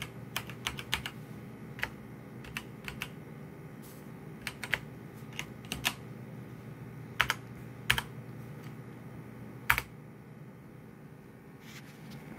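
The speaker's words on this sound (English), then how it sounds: "Type that in." Password being typed on a computer keyboard while setting up a Raspberry Pi 4: scattered, light key clicks in irregular bursts over a steady low hum, close and fairly quiet, with no talking.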